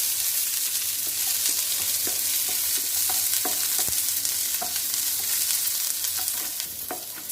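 Garlic fries in a pan as a spatula stirs it, a constant bright sizzle broken by light scraping clicks and taps throughout, with no talking.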